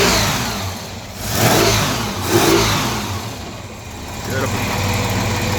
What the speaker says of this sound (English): Nice fast revving engine